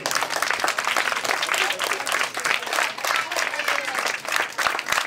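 Loud, dense applause from an audience at a Christmas gift-giving event for underprivileged children, steady clapping filling the whole stretch with crowd noise mixed in.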